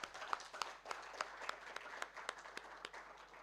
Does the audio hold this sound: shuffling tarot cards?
no